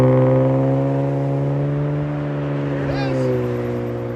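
A 2011 Nissan Altima SR with a 3.5L V6 and dual Magnaflow exhaust rumbles at a steady, deep idle-to-rev drone, loud and close, with a brief rising blip near the end.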